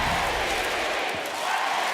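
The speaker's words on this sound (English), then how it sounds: "And listen to this capacity crowd get behind him." A capacity crowd at a basketball game between the South East Melbourne Phoenix and Illawarra Hawks roars steadily, a dense sustained wash of cheering and noise filling the arena from start to finish.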